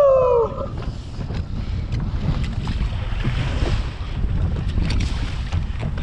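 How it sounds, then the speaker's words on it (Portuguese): Strong wind buffets the microphone in a steady roar during a rainstorm at sea, with water sloshing and splashing around a small sailing raft throughout. "Vem uma tempestade aí, galera, de vento, com chuva."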